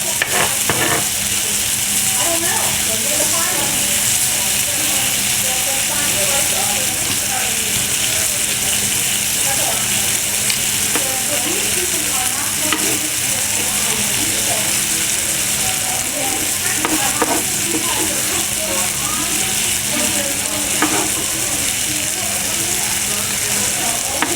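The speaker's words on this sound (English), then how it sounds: "So these burgers are pretty much almost ready to go." Beef burgers topped with cheese sizzle and crackle on a hot cooking surface, a dense, continuous fry hiss that stays loud and even throughout, with occasional stirring or scraping noises.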